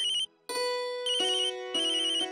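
A mobile phone rings loudly and up close with a bright electronic melodic ringtone, repeating phrases of sustained tones after a brief pause.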